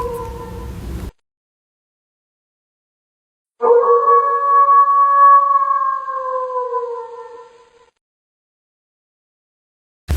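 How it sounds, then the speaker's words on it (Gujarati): A wolf howls once, a long sustained tonal call that rises, holds, then slides down and fades over about four seconds, heard alone after a brief burst of other sound and a stretch of silence. "વુલ્ફ એટલે વરુ."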